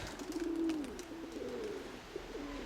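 A pigeon gives a low, soft coo that rises and falls, followed by fainter answering coos from nearby pigeons over quiet background noise.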